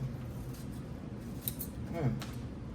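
Scissors snip through fabric backed with fusible glue web (Wonder Under) while cutting out a pocket purse piece, giving a few soft close snips and rustles over a steady low hum.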